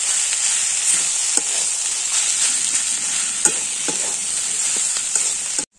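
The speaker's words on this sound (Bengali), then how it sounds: "আমি একটু ধনে পাতা দিয়ে এটাকে আমি ভালো করে কষিয়ে নেব" A vegetable cutlet mixture seasoned with garam masala and coriander leaves fries and is stirred in a pan, giving a steady loud sizzle broken by sharp utensil scrapes and clicks, with no talking.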